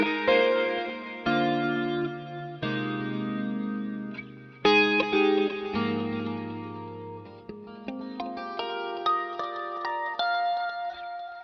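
An electric guitar played through a boost effect pedal strums a sequence of chords and picked notes, with a driven, slightly distorted and chorused tone that rings out between strikes, with no talking.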